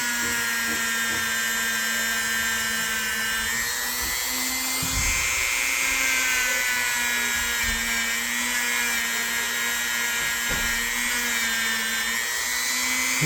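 Wire wheel on a rotary tool scrubbing a vintage L.L. Bean fish knife, a steady high-pitched whine running close and continuous throughout, with slight pitch dips as the wheel bears against the metal.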